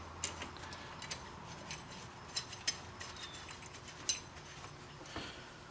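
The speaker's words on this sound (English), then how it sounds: "I can tighten that one up back here on the head." A ratchet tightens a 9/16 bolt on an engine head in a quiet space, a few faint, sparse clicks and ticks scattered across the stretch with low background hiss.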